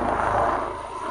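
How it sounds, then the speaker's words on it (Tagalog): A helicopter passes over an open grassy area near a swimming spot, giving a steady, fairly loud broadband drone that holds for the whole moment without anyone talking. "Yan, may aeroplano. Helicopter pala. Helicopter."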